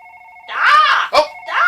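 A telephone rings loudly and close by, a steady electronic tone followed by warbling bursts of ringing that repeat in quick succession, with no talk over it.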